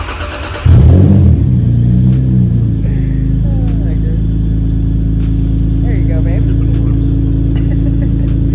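A Toyota MKIV Supra with a naturally aspirated 2JZ-GE engine fires up close by, then settles into a loud, steady, rumbling run with no further sharp revs.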